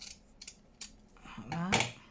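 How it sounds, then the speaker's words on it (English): Scissors snip through coarse sacking material in a few close, quiet cuts, ending in one longer, louder crunching cut. "it's like sacking material. So we just cut"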